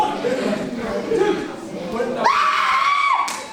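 A wrestler lets out a sustained, high-pitched scream for under a second at a live wrestling match, rising above a steady wash of crowd noise and cheering.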